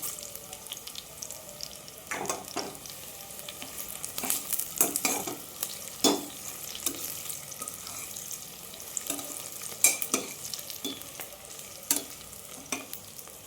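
Onions fry and sizzle in a pan for jackfruit biryani, with a steady crackle broken by repeated scraping stirs of the spoon, close and moderately loud, no talking.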